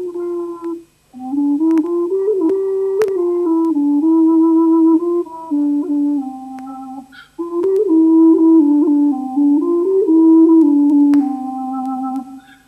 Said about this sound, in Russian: Вот этот гемсхорн, он басовый. То есть звучит примерно так.